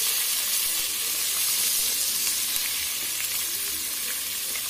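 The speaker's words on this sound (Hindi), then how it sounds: "और इसे भी हम टमाटो सॉफ्ट होने तक भून लेंगे।" Chopped medium tomato sautéing with ginger-garlic paste for a restaurant-style tikka biryani, producing a loud, continuous, close-up sizzle with soft hissing and no talking.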